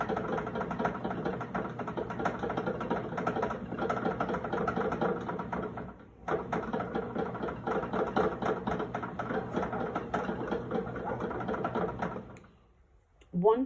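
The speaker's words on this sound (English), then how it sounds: "I just wanted to give you an idea of, during the heavy kneading process, what's going on" A bread machine kneads pizza dough with a steady motor hum and rhythmic churning, briefly pausing midway before resuming, then stopping near the end.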